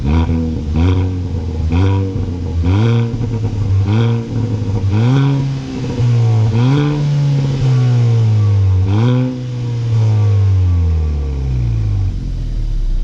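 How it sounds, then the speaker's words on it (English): A 2020 Kia Forte GT sedan with a high-flow active exhaust and piped-in engine sound revs loudly and up close: a string of short, sharp throttle blips, then a longer climbing rev that falls away to idle. "Mix this torquey fun car with a high flow active exhaust and some pumped in noise."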